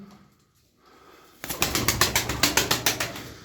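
In a pigeon loft, after near silence a burst of rhythmic wing flapping starts up close, about a dozen quick beats over soft cooing.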